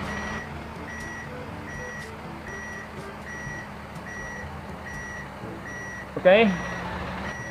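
Steady repeating reversing beeps from a dump truck in a mining truck simulator game, with a constant engine drone underneath and a brief burst of noise near the end; a voice speaks briefly.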